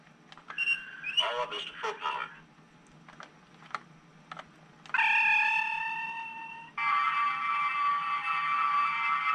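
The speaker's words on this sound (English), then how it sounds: "Nice transporter sound effect." Star Trek transporter effect from a Diamond Select toy ship, heard as a bright shimmering electronic tone with sustained whine after earlier chirps and clicks, played from a small speaker at moderate level.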